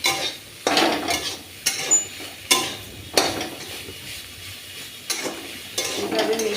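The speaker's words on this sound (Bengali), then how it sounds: "এখন আমি এই শাকগুলোর সাথে মিশিয়ে নিচ্ছি রসুন এবং লঙ্কার ফোড়ন" Greens being stirred in a pan with browned garlic and chili, close scraping strokes in bursts of roughly a second each over a soft sizzle, with brief pauses between.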